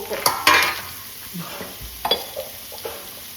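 Onions with curry leaves and salt frying in hot oil for a chicken stew, a steady sizzle broken by a few sharp scrapes and clanks of a spoon stirring in the pan, close and fairly loud, with no talking.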